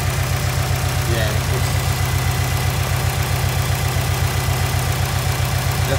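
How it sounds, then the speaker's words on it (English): A car engine idles nearby with a steady, low, pulsing rumble that stays even for the whole stretch and has a slightly rough rhythmic beat. "We'll let this thing idle for like 2 minutes and see how bad is the smoke on the tailpipe"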